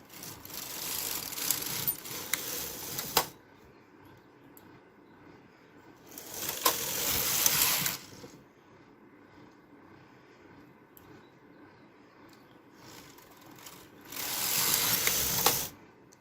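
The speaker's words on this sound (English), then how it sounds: "We're going to knit 10 rows" Brother KH910 domestic knitting machine knitting rows of waste yarn, its carriage passing back and forth in three loud mechanical bursts separated by quieter pauses.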